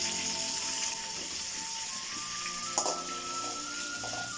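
Long-sliced large onions fry in hot oil in a pan, a soft steady sizzle with occasional scraping stir strokes and one brief clatter, fairly quiet throughout.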